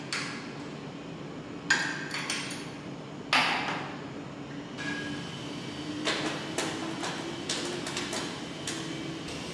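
Metal clanks, scrapes and banging as a brush guard is unbolted and pulled off a wrecked second-generation Dodge Ram truck, several sharp close knocks and scraping bursts over a low background rumble, no talking.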